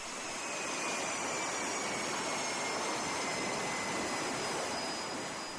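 A jet aircraft launched by catapult from the deck of a US Navy aircraft carrier: a loud, steady engine roar with broadband rushing noise and a faint high whine, sustained throughout without talk.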